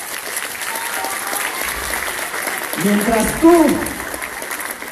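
Conference audience applause, a broad wash of clapping from a hall that continues steadily while someone talks over it, his voice rising above the noise.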